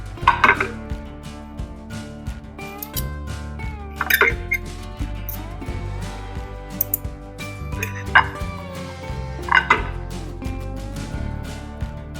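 A knife cuts through a tender stuffed bell pepper on a plate, giving several sharp knocks and scrapes against the dish at irregular intervals, heard up close over a faint background.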